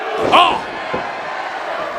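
A pro wrestling crowd roars for Sabu after his clothesline, a broad, steady swell of cheering that stays loud throughout, with a sharp shout at the start riding on top.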